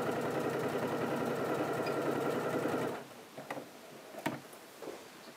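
A sewing machine stitches a pocket, giving a fast, close, rhythmic mechanical chatter for about three seconds before stopping, followed by a few light clicks and handling taps.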